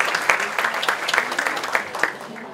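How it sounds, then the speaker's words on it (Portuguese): Applause from an audience for a lucky prize draw winner at a formal event, a steady patter of many hands clapping close by, with faint voices underneath. "Um aplauso aí."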